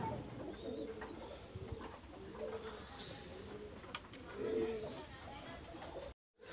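Pigeons in a loft coo softly in a few rolling bursts, fairly close but quiet, with light chirps in between and a brief drop to silence just before the end.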